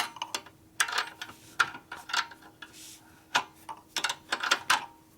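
A ratchet wrench clicks in short, irregular bursts while working on a Harley transmission with an S&S 113ci Evo motor and belt drive, the pawl ticking close and fairly quiet with brief pauses between strokes.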